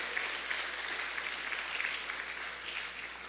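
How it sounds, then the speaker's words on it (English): A church congregation at a vacation Bible school service claps for the decorators, a dense, steady round of applause that carries evenly across the room for several seconds without speech. "Would you give them all a round of applause"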